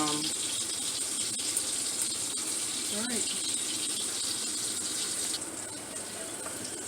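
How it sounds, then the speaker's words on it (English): Water gushing steadily into a kitchen sink as cooked macaroni is drained, a loud continuous rushing pour with faint clanks, close up and lasting throughout. "I've drained the macaroni"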